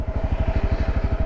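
A wheelie-practice motorcycle engine in first gear throbs close up with a fast, steady pulsing beat, loud and unbroken, with no voices over it.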